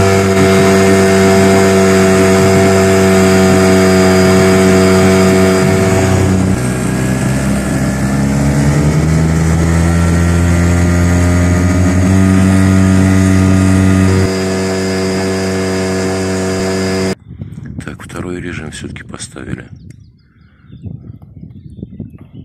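A Yamaha 3 hp outboard motor running at maximum revs on water gives a loud, steady, buzzing drone. Its pitch wavers and shifts partway through, then the drone cuts off abruptly into quieter, irregular clatter.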